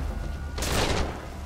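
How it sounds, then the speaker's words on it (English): A grenade explodes in the video game Metal Gear Solid V Ground Zeroes: one sudden, loud, broad blast that lasts under half a second over steady game background noise. "Grenade or some shit?"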